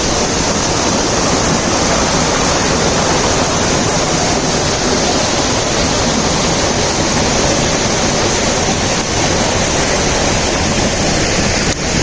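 Rushing river water in St Andrew, Jamaica, pours steadily and loudly in a dense, unbroken roar, close by and alone with no voices.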